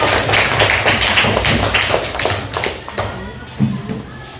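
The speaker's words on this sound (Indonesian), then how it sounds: "semangat tepuk tangan kawannya" Seventh-grade classmates clap for a group presentation in a school classroom, loud dense clapping that thins out toward the end, with a voice speaking over it.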